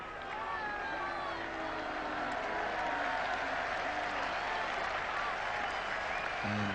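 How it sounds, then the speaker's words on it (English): A big crowd at an England versus Australia Test cricket match applauds a 50 partnership. Dense, continuous clapping and cheering carries at an even level throughout, broad and slightly distant. "this big crowd giving vent to their feelings"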